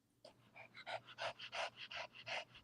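A dog pants rhythmically and hard, about a dozen quick breaths in steady succession, close and fairly faint over a low background hum, with no talking.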